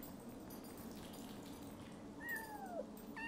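A single faint cat meow rises and falls near the end over a steady ambient game background in Yonder: The Cloud Catcher Chronicles.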